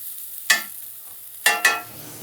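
Potatoes crackle and hiss in a hot cast iron pan, with three sharp bursts of sizzle as they are stirred or turned, close by.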